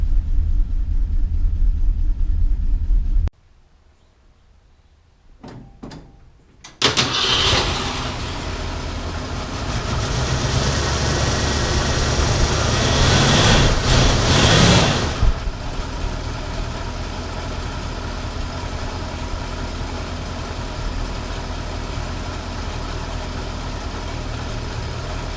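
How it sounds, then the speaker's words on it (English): A 1968 Ford Mustang engine, recorded close under the hood in very cold weather, goes quiet, then gives a few brief catches, cranks and fires into a loud revving start before settling into a steady rumbling idle. "put my GoPro camera outside or under the hood so you can check the engine out when it cranks over"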